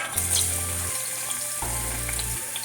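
Onion frying in hot oil for Haitian pork griot gives a steady, close sizzle and crackle with no talking. Two low humming stretches run underneath.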